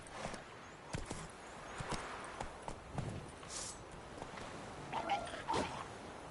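Hooves of Roach, a horse in The Witcher 3: Wild Hunt, clip-clop in an irregular running rhythm, faint and somewhat distant, with occasional brighter clacks near the end and no speech.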